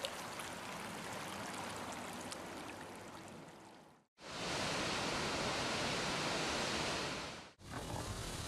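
Steady broadband rush of a creek flowing in Yellowstone in fall, continuous and fairly close, with two brief dips in level where the sound cuts out momentarily.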